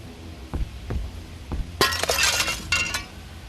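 Glass shatters in the VR game A Space Between, a few dull knocks first, then a loud crashing break with scattered tinkling shards that trail off.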